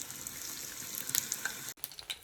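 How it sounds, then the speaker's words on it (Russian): Meat-filled pirozhki frying over medium heat in a covered pan, a quiet, steady crackle of oil with scattered faint pops, broken by a brief knock near the end. "Жарим пирожки, девочки, на среднем огне"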